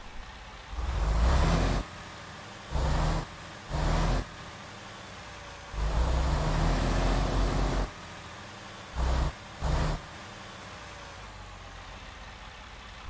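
A heavy Detroit DD13 diesel engine in a Western Star 57X truck in American Truck Simulator idles low, then revs in several surges, two long and several short, dropping back to idle between each.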